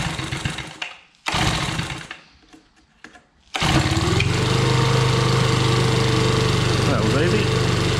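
A Makita 4-stroke leaf blower starts after a couple of short pull bursts, then its engine settles into a loud, steady, continuous drone close by.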